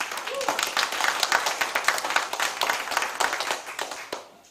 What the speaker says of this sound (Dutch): Mag ik een hartelijk applaus voor Martin Rudolf.